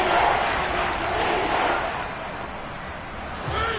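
Football stadium crowd roaring steadily at a big third-down moment, a loud, sustained wash of cheering that swells and dips across the clip, with a brief voice near the end.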